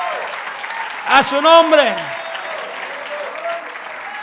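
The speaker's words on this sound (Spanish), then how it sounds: "dé un fuerte aplauso al Señor" Church congregation bursting into loud applause during a Spanish-language sermon, a short swell of clapping and voices rising over the preacher's amplified speech, then fading back as he talks on.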